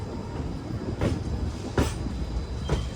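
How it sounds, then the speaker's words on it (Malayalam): An express train pulls away from Sakleshpur station in Karnataka, a steady low rumble of rolling coaches with a few sharp clanks and bumps from the couplings and wheels, recorded from inside a coach. "സമയം ഇപ്പോൾ 7:50 സകലേഷ്പൂരിൽ നിന്ന് ഇതാ വണ്ടി എടുത്തു"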